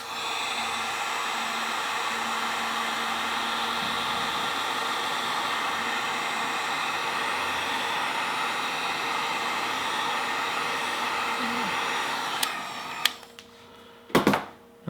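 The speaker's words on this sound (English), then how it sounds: "I got my heat gun ready to go." A heat gun blows steadily on heat shrink tubing over a motorcycle wiring harness repair, a constant close airy roar with a faint hum running for about twelve seconds before it cuts off, followed by a few handling knocks.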